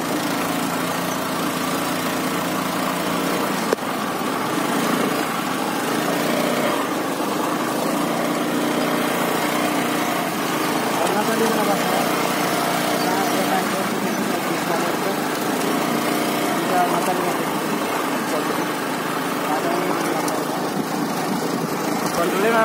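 A scooter engine hums steadily as it rides over a rough, slippery mountain road toward Maulakot in Nepal, a continuous droning buzz with wind noise while people talk over it.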